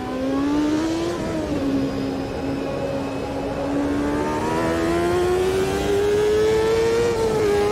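A Champ Car engine in the Automobilista 2 racing game holds a continuous high rev, its pitch dipping at a shift and then climbing slowly under sustained throttle, loud and up close.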